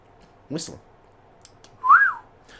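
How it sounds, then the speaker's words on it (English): A short, clear whistle with a rising then falling pitch, following a brief breathy sound, in an otherwise quiet setting. "What is that? Whistle."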